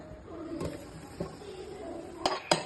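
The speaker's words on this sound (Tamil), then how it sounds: "நான் இப்ப வந்து குக்கர் மூடி போட்டு போறேன்." A pressure cooker lid is handled and closed while cooking venpongal: a few sharp metallic clinks and clanks at irregular intervals, close by, over quiet kitchen background.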